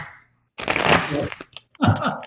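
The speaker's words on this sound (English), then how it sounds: "Let me shuffle again, doggone it." Tarot cards being shuffled by hand, a couple of dense riffling bursts of papery flutter and slaps, loud and close, separated by a brief pause.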